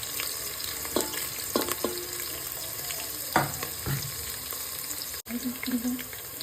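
Byadgi chillies crackle and sizzle in hot oil with curry leaves for a tempering, a steady fry hiss broken by sharp pops and spoon clinks near the pan.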